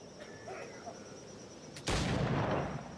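A shot at a target in Assassin's Creed 4 Black Flag, a game: a single loud, sharp gunshot bursts out near the end after a quiet, murmuring stretch, followed by a short decaying boom.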